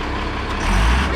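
A 500-horsepower car with a reworked fuel system rumbles low and steady, then swells louder as the engine revs in the final half second, close by with no talking.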